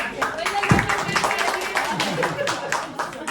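Scattered audience clapping at a post-show talk in a small theatre, sharp close claps ticking steadily under an ongoing speaking voice.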